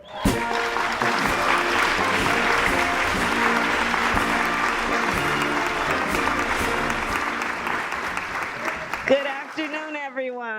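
Sustained applause from a large audience welcoming the Vice President of the United States onstage, a dense, loud clapping that fills nearly the whole span before stopping abruptly near the end, when a voice begins speaking.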